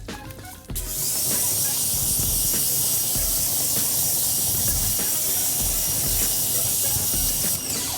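A strong, continuous hiss of wax sprayed onto the wheels of a Mercedes GLE SUV starts after a short pause and holds loud and steady, with faint clicks underneath.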